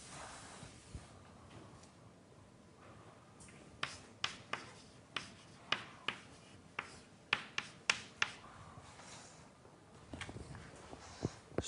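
Chalk or marker tapping and scratching on a board during a statistical mechanics lecture, a series of crisp strokes at an irregular rhythm in a quiet room.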